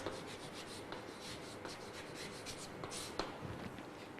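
Pen scratching across paper as notes are handwritten during a Class 8 science lesson on metals and non-metals, quiet close rubbing strokes in an irregular rhythm with small taps.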